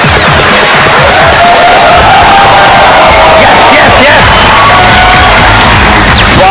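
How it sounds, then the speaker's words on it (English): A loud crowd at a quiz competition cheers and applauds to welcome the Loyola School, Jamshedpur team, with whoops, shouts and dense roaring noise filling the whole stretch. "give a big round of applause to our Bazigarz"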